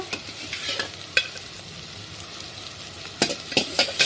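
Onion and spice masala frying in oil for chicken wing pulao, with a steady sizzle and several sharp scraping clinks of a spoon stirring the pan, loudest near the end.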